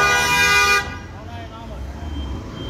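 A car horn blares in a steady, loud, sustained toot on a city street for nearly a second and then stops, leaving traffic rumble and a faint voice behind.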